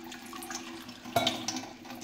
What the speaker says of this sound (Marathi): आता याच्यावर थोडंसं 1 अर्धी वाटी पाणी घालूया